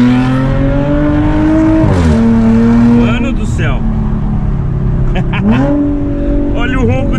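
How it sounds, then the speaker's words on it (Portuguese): An Audi A7 3.0 turbo V6 revs up close and loud, its engine climbing and dropping in pitch across several throttle blips and shifts. "Olha o ronco desse carro"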